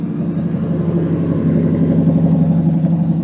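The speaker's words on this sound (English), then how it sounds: "We'll just pause while another Chimera burbles past." A deep, throaty TVR Chimera sports car engine burbles steadily at low revs, loud and fairly close, rumbling on for several seconds with no voices.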